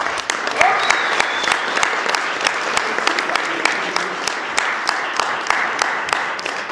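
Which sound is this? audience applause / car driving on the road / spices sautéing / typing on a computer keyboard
audience applause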